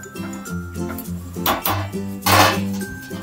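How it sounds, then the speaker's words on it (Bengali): A lid is set on a cooking pot of cabbage, giving a couple of close metallic clinks and a rattle over a low background hum. "আমি এবার ঢেকে দেবো"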